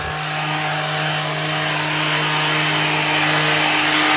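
A power sander runs lightly over a stained timber deck with a continuous, steady high whine and gritty hiss, loud and close, holding at one even pitch throughout with no talk.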